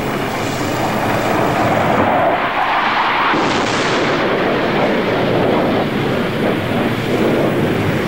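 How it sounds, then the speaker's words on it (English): Heavy nearby bombing during the Vietnam War, a continuous roaring, rumbling barrage with dull blasts swelling midway, loud and unbroken with no voices. "I don't think you'll ever get used to that bombing when they start bombing this close."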